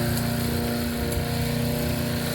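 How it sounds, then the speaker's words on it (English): A lawnmower engine runs close by with a loud, constant droning hum and no pauses, outdoors beside a house. "She's following me with the damn lawnmower."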